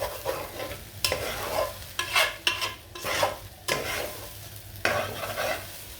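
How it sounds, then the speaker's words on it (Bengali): Rice being fried and stirred in a pan for chicken polao, with repeated scraping strokes of a spoon over a soft continuous sizzle, close and fairly quiet. "আমি সবসময় ভালো করে চালটা ভাজি"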